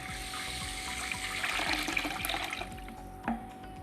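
Water poured over washed dals and rice for soaking dosa and idli batter, a steady splashing pour with some trickle, fairly close and continuous, easing off near the end.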